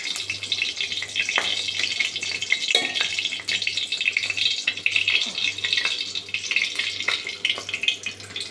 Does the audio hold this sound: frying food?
yes